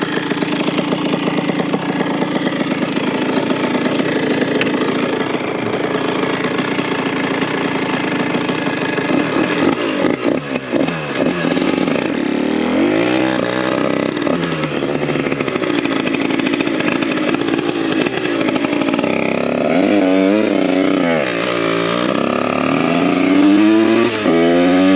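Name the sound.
70cc moped engine revving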